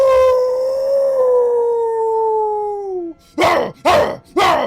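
A wolf gives one long, loud, steady howl that slides downward at the end, followed by three sharp, close barks.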